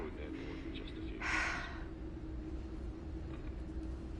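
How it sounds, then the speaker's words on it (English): Heavy breathing from a character in The Casting of Frank Stone: one loud, breathy gasp-like exhale stands out over a low, steady background hum, with quieter breaths around it. "And now she's gonna be breathing for another 20 seconds."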